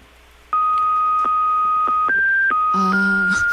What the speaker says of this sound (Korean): 굉장히 전화 연결음이